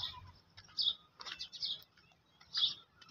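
Birds in a homemade pigeon cage give a few bright, high chirps in short bursts, with faint scattered calls and rustling between them. The calls come from close by and are fairly quiet.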